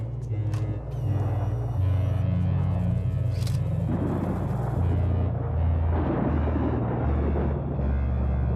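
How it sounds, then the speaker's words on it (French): A thunderstorm rumbles outside a museum, a loud, continuous low roll with crackling surges that swells and settles over several seconds. "Et puis l'orage."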